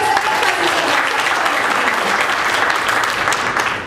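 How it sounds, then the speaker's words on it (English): An audience at an atheist conference talk gives a loud, dense round of applause that holds steady and unbroken throughout, close and full. "Yes, we can applaud for him."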